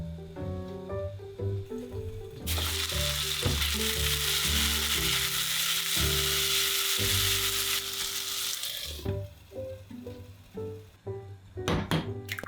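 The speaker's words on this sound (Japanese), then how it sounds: "じゃがいもとさやいんげんを追加。 最後に鮭。 蓋をして" Salmon, potatoes and green beans sizzle in a lidded pan, a loud, steady hiss lasting several seconds, framed by clunks and knocks of the pan and lid before and after.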